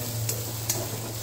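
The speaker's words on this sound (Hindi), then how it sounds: "अब हम इसमें शिमला मिर्च डाल देंगे। इसको थोड़ा पकाएंगे" Capsicum frying with browned onions in a pan for Manchurian, a constant close sizzle with two light scrapes or taps of stirring across a short stretch.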